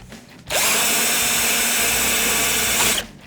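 A power drill whirs steadily at high speed for about two and a half seconds, drilling holes in planter box boards, loud and close, starting and stopping abruptly.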